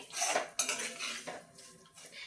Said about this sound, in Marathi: हा रवा तुपामध्ये छान आपल्याला परतून घ्यायचा आहे आणि आपल्याला मंद आचेवरच हा रवा भाजून घ्यायचा आहे